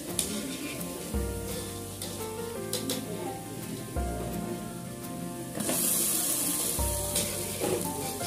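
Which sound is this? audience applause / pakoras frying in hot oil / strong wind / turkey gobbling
pakoras frying in hot oil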